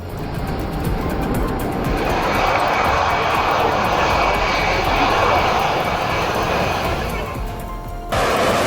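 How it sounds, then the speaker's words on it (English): A Turkish F-16 fighter jet makes a very low pass over plane spotters, a loud, continuous, close roar that swells and holds for several seconds. "Turkish F-16 giving the plane spotters the ultimate low pass."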